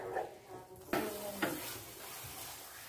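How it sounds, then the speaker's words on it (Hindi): A spoon stirs moong dal into sugar syrup in a pan over a low gas flame while making halwa, giving soft scraping and a few sharp clinks against the pan, quiet and close. "इस तरीके से हम चम्मच चलाते हुए दाल को चाशनी में मिक्स करेंगे।"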